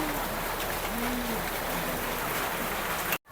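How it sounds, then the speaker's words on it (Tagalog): Heavy rain falls steadily as a dense, loud, continuous hiss with no let-up, with a faint voice in the background before it cuts off abruptly. "Ay grabe, wala pa rin tigil ang ulan, mga kababayan, oh."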